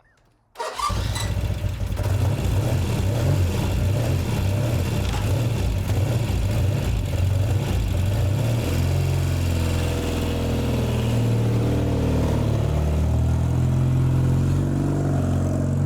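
A Norton motorcycle engine fires up and idles with a steady, loud low rumble, then settles into a deeper, throatier run with slight revs later on, close by with no talk.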